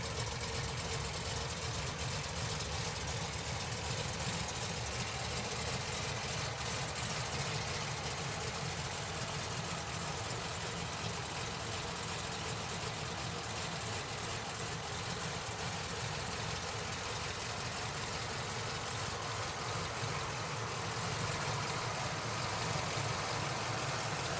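A modified, non-stock Chevy Caprice police car idles with a deep, steady rumble that holds an even, close, unbroken drone throughout, with no voices over it.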